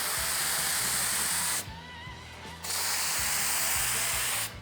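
A rattle can sprays paint onto a 1967 Barracuda fuel filler neck: a loud, close hiss in two long bursts with a short pause between and a faint mechanical clicking underneath.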